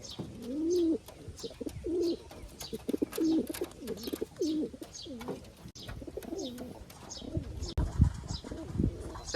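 Pigeons coo repeatedly in soft, rolling throaty calls, close by, with light chirps and occasional wing flutters between them.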